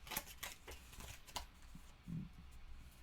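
A deck of Fallout board game cards being shuffled by hand: quiet riffling and snapping bursts, close and faint, with a soft thud near the end.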